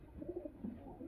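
Giribaj high-flying pigeons coo softly at close range in a short, quiet burst of low, rolling notes, with no voices.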